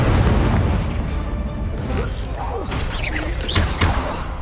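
Incendio fire spell cast during combat in Hogwarts Legacy, a dense, loud rumbling blast with whooshing bursts layered over a continuous low roar of battle effects, steady throughout.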